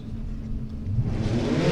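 A drag racing hot rod, the A Econo Altered, idles with a deep, steady rumble, then its engine note swells and rises in a building rev over under two seconds, close and alone.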